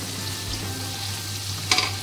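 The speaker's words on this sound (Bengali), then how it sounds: "এভাবে কষিয়ে নিতে হবে আস্তে আস্তে। মশলাটা দিয়ে তেল বেরিয়ে গেছে।" Masala for chicken do pyaza frying in hot oil, a steady close sizzle with a couple of brief stirring scrapes near the end, no voices.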